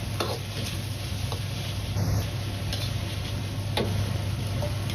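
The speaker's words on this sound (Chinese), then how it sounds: "翻炒几下。" Celery and sliced pork stir-fried in a wok, a steady close sizzle with scattered ticks and scrapes of the spatula tossing the food, continuous throughout with no talking.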